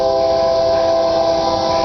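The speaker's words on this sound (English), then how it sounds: "And there's a train coming besides." A train coming past near a backyard with a bird bath, a steady loud horn-like tone with strong sustained harmonics over a rumbling bed, unbroken for the full moment.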